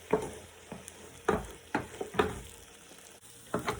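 Scrambled eggs stirred in a frying pan, a spatula scraping in several separate close strokes over a soft, steady sizzle, with no one talking.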